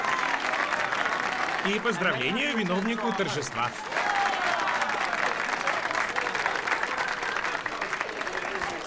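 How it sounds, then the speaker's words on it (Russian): Applause from a room of guests for a pianist at a celebration, a steady bed of clapping under a voice speaking over it near the start, continuing evenly to the end. "Аплодисменты нашему пианисту."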